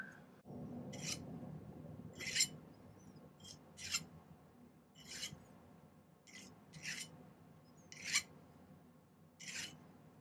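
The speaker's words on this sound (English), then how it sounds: "I'm just going to clean it up with the file just a little bit." A hand file rasps across a thick silver ring in about nine short, separate strokes at an uneven pace, close and fairly quiet, with no talking.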